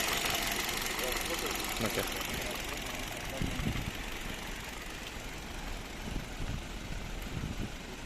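A 2015 Hyundai Solaris with a 1.6 engine and automatic gearbox idles steadily with a low, even hum, heard close under someone talking over it.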